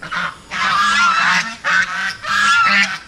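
Geese on a Philippine farm honk loudly and close by in repeated bursts, calls overlapping in several harsh blasts across the whole stretch, with no talk.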